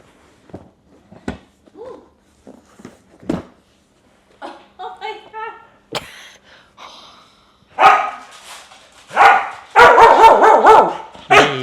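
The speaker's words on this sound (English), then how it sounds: "Dog's excited about it." An excited dog gives scattered yips and whimpers that build into loud, rapid barking close by, with someone talking at times.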